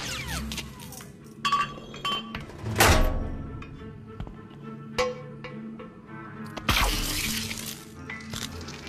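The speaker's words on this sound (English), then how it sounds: "Insert the hydro spanner into that access point." In the Vader Immortal VR game, a hydro spanner slots into an access point with a series of metallic clinks and clunks, a sharp thunk near the middle and a bright burst toward the end.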